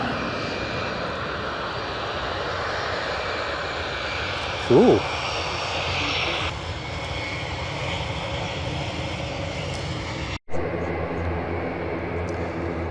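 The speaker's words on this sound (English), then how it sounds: "That's a prop plane." A large four-engine propeller plane resembling a Hercules runs near the end of a runway, its engines keeping up a loud, steady droning roar that stays close throughout while a person speaks briefly.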